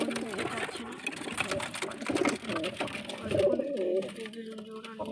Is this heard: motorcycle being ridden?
no